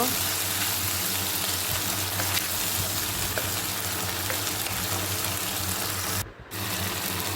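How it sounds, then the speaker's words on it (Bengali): Spice masala fries with tomato paste in a pan, a steady loud sizzling hiss that runs nearly unbroken, briefly dipping once near the end. "টমেটো পেস্ট দিয়ে মশলাটাকে ভালো করে ভেজে নেব"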